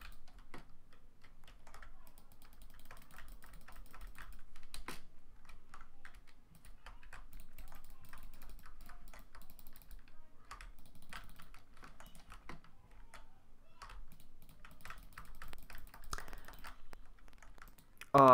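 Computer mouse clicking while playing Minecraft, a long run of small, dry, close clicks and taps in an uneven rhythm, quiet and steady with no talking.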